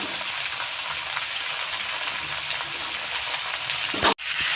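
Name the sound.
cabbage frying in a pan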